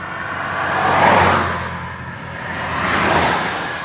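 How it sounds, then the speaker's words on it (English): Cars rolling past on a downtown San Diego street, two broad whooshes swelling and fading one after the other, fairly close and loud, with no voices. "amidst the sound of cars rolling by"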